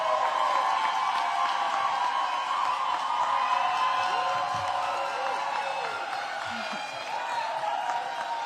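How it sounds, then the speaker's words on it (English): A crowd of DC Public Schools educators at a back-to-school welcome event applauds a returning educator with sustained clapping, cheers and whoops, loud and continuous throughout and easing slightly toward the end. "Let's please applaud Ms. Paris Wilton for coming back to serve our city."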